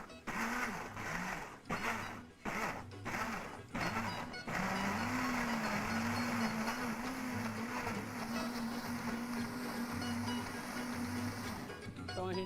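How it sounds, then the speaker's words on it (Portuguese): A kitchen blender whirs through cooked tomatoes for a thick sauce. It starts in short stop-start pulses, then runs steadily and loudly close by for several seconds with a whining motor tone. "Dá uma misturada aqui para ajudar o trabalho do liquidificador"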